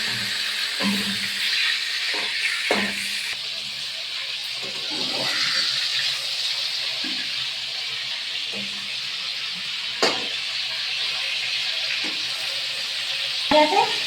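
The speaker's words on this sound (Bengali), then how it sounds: "বাকি চিংড়িটা করে ভেজে নেব" Prawns fry in hot oil in a wok, giving a steady close sizzle and hiss with occasional clinks and stirring scrapes throughout.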